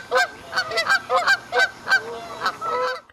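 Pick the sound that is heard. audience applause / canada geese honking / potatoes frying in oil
canada geese honking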